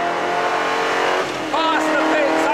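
A Noble SPF GT40 race car on a racing circuit roars past with a loud, rising engine note and brief tyre squeal, heard close, while someone talks over it.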